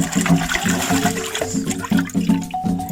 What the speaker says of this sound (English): I need water here so that I'll use it to wash the plantain because there's a sand on it